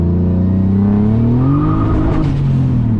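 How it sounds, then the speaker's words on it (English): A 450 hp turbocharged BMW E34 engine holds near the rev limiter, bouncing rapidly in a loud, buzzing stutter, heard from nearby. "Some good limiter spinning right there."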